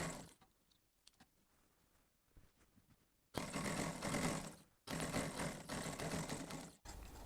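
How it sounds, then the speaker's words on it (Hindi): A sewing machine stitches pintucks into trouser fabric. A few quiet handling sounds come first, then two loud, close bursts of rapid, even motor-driven stitching, with a short pause between them. "यहाँ पे हम दोनों को एक साथ फोल्ड करके सिलाई लगा देंगे"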